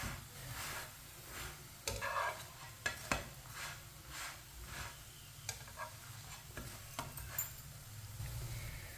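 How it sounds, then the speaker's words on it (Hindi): A paratha fries in an oily pan with a steady low sizzle, broken by occasional scrapes and soft knocks as it is turned and moved around, close and fairly quiet. "इसे ऐसे ही घुमाते फिराते पका लेना है, जलने बिल्कुल भी नहीं देना।"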